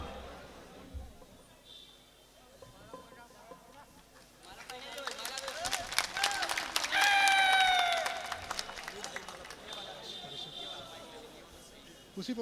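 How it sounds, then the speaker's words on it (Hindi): Mushaira audience applauding to welcome a poet, a swelling burst of clapping and cheering that peaks mid-clip and then fades, with a host's voice speaking before and after. "तालियों से ज़बरदस्त इनका इस्तकबाल करिए।"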